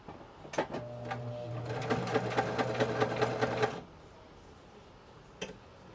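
A sewing machine driven by its foot pedal runs in one steady burst of rapid needle stitching lasting about two seconds, bracketed by a few clicks and a later single tap, close and fairly quiet.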